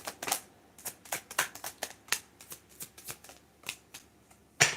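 Tarot cards being shuffled and cut in a series of crisp riffling bursts and soft slaps, close and fairly quiet, with a sharper snap at the end and no voices.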